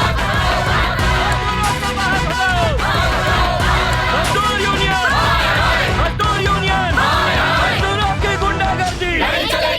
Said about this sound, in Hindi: फैक्ट्री के बाहर भारी मात्रा में भीड़ एकत्रित हो चुकी है